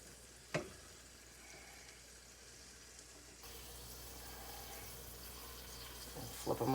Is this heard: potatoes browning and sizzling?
yes